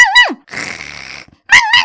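A dog loose in a park makes a rough, noisy growl between two sharp, high, bending yelps, all close and loud with no talking.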